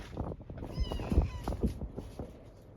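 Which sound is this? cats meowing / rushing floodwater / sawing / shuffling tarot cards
cats meowing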